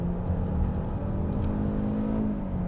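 A 2021 Hyundai Elantra with a CVT accelerating hard at full throttle, a steady droning engine whir heard from inside the cabin, rising smoothly over a few seconds with no talking.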